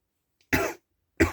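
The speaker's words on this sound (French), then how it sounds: "C'est juste de la toux." Two short, dry coughs from a single person nearby, spaced about half a second apart, loud against a silent background.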